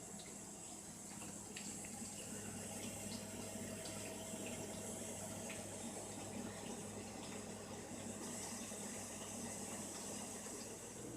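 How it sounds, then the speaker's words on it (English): A new dishwasher fills with water, a faint continuous hiss and low hum from the machine, steady and unbroken throughout. "See how loud that gets up to when the dishwasher starts. It's filling with water right now."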